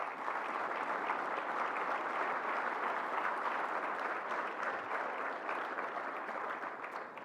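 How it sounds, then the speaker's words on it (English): Steady, sustained clapping from an audience at the NC Community Colleges awards dinner fills the room evenly for several seconds, dense and even with no voices standing out. "Please give them a round of applause, and please remember to do that."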